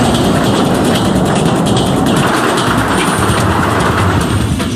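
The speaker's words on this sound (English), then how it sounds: "When a train approaches an underground platform, it pushes a rush of air ahead of it." An underground tube train approaching a platform, a loud continuous low rumble and roar with a broad rush of air, steady throughout with no voices.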